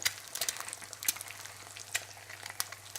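Farm-raised pastured eggs sizzle in a frying pan, a soft continuous crackle punctuated by sharper pops and spits, with a low steady hum beneath.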